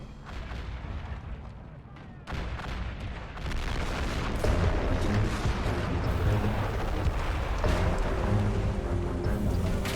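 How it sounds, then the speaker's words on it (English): Artillery fire in the Army Men battle game, a steady barrage of deep booms and blasts building louder and denser over the stretch, with a voice talking over the shelling. "Taking hits from the artillery."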